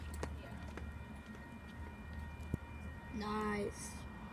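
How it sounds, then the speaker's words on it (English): A train runs past on railroad tracks, giving a steady low rumble with a short horn-like tone near the end; murmured voices may sit faintly underneath. "So, yep, there's the train."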